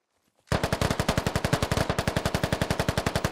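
Loud sustained automatic fire in a military shooter video game, starting abruptly after a near-silent moment and continuing as a fast, steady stream of shots with no speech.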